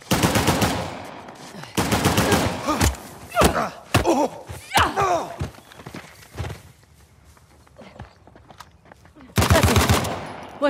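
Gunfire in the Uncharted: The Lost Legacy video game comes as loud, rapid automatic bursts at the start, middle and end, with single shots and scuffling footsteps in the quieter gaps between.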